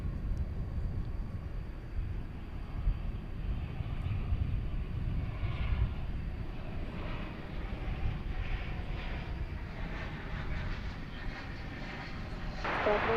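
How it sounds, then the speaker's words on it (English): American Airlines Airbus A321 landing on a runway at DFW Airport at night, a distant low engine rumble rolling steadily for about thirteen seconds with no voices. "we've got American Flight 1711 coming in from the city adjacent to the bay. It's an Airbus A321 here on Runway"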